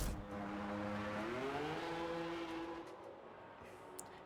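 A racing car in a Formula-style video game at Silverstone slows into the pit lane, its engine tone sweeping down through gear changes, steady and close with no talk.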